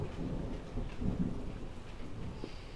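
Low, rolling thunder rumbles through a steady rainstorm, a deep continuous growl beneath the patter of rain, with no voices.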